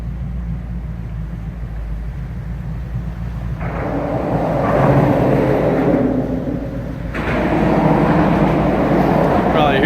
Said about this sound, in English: Probably hear those cars overhead.